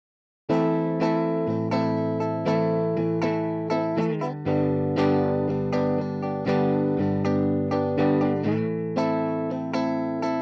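Logic Pro's Tape Delay effect pushed hard on a sustained distorted harmonic tone, rich and buzzy, with repeated pulsing attacks and wavering pitch smear carrying continuously after a brief silence at the start.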